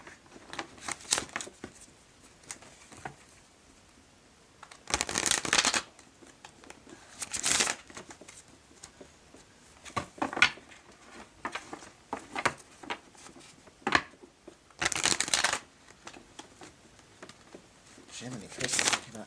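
Repeated bursts of tarot cards being shuffled, soft and close, in short riffling spells separated by quiet pauses with occasional light handling noises.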